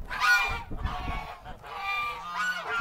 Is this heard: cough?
no